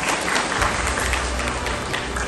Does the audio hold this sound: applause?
yes